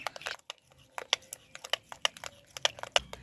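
A spoon mashes boiled potato and egg together in a bowl, close up. It makes a quick series of soft, squelchy knocks and scrapes in an uneven rhythm, with no talking.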